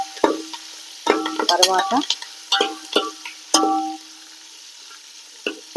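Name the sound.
chopped onion and curry leaves sizzling in hot oil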